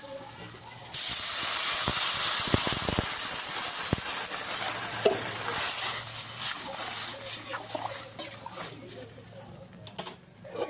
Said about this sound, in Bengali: সবজিটা সুন্দর করে ভাজা হয়ে গেছে। এবার জল দিয়ে দেবো।